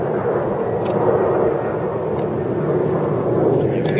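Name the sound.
airplanes flying overhead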